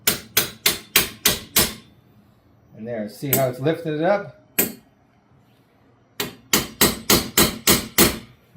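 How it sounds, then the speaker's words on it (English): A hammer knocks a 1/2-inch copper pipe antenna fitting down over a nut on concrete: a quick run of about six sharp metallic taps, then someone briefly speaks, then a single tap, and later another rapid series of about seven taps. "give it a little tap with our hammer to make sure it seats over that nut"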